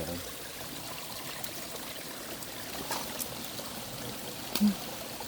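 Water flows and trickles steadily at a moderate level among stacked stones, a constant babbling wash with occasional small splashes.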